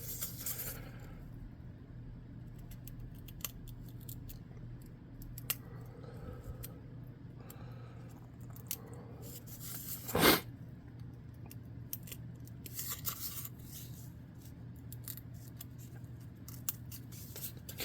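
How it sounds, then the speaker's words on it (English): Cardboard boards cut for tabletop game scenery, faint scattered snips and scrapes over a steady low hum, with one louder crunching cut in the middle, no talk. "Now on the sides here, you just make a little cut where those boards end."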